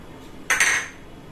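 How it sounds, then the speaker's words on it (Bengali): A small pinch of cumin seeds drops into a dry kadai, two quick close rattling patters in rapid succession followed by a short fading scatter, then quiet. "প্রথমে আমি এই শুকনো কড়াইতে একটু জিরে দিয়ে দিলাম"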